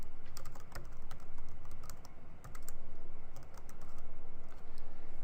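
Continuous keyboard typing as text is entered on a computer, quick irregular key clicks heard up close and alone, with brief pauses between bursts.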